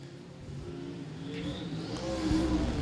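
Sprint race cars speed down the front stretch at I-35 Speedway, a rising engine roar that swells louder and nearer over a few seconds.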